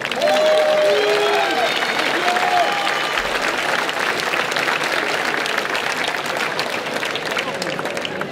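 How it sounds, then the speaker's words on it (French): A crowd applauds and cheers for the finalists at a French boxing championship, with loud sustained clapping and scattered whistles and shouts. "vos applaudissements"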